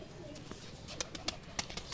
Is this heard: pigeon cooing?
yes